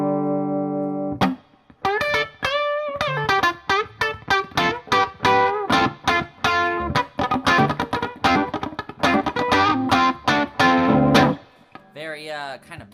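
Electric guitar played through a Hughes & Kettner TubeMeister 36-watt tube amp on the clean channel with reverb, the gain turned up, giving a string of strummed chords and ringing single notes with short pauses, sustained and fairly loud.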